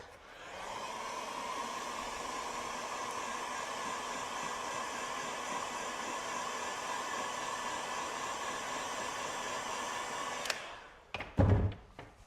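Hot air blows steadily to heat set fresh paint on a crankbait fishing lure. The whoosh runs evenly for about ten seconds, then cuts off, followed by a few short handling knocks.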